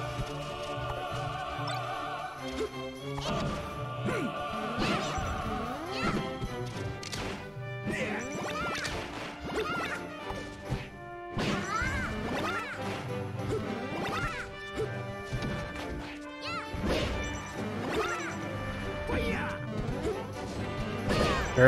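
Hard smash attacks land again and again during a Super Smash Bros. match, with sharp cracking hits punctuating busy, steady game music throughout.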